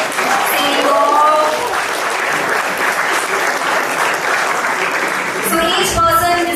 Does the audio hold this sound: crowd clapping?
yes